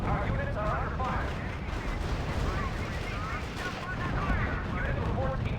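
Gunfire and artillery rumble continuously in a R.U.S.E. strategy game battle, dense overlapping shots and booms under radio-style voice chatter reporting the engagement, steady and fairly loud throughout.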